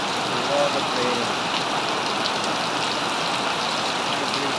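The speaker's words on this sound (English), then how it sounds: "A lot of raining." Heavy rain falls during a Malaysian rainy season as a dense, steady hiss of drops on surfaces, close and continuous, with no voices heard.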